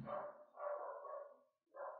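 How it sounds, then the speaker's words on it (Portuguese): Dog barking in three short, fairly faint barks with gaps between them, heard alone outdoors. "E o cachorro late."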